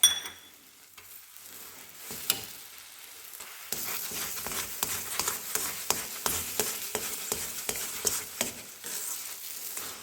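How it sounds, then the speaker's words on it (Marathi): Sugar being stirred into semolina sheera (halwa) in a pan, with cardamom powder added; a steady run of scraping, clinking spoon strokes over a soft sizzle, close and fairly loud, no voices. "चांगला ढवळून घ्यायचा साखर टाकल्यानंतर."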